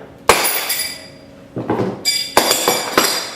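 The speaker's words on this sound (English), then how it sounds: "it should take a good strike at the end of the wrench to break it free" Sharp metallic strikes on the end of a wrench clamped to a CIRT impactor shaft, working it loose; one hard ringing hit followed by several more blows at irregular intervals, close and loud.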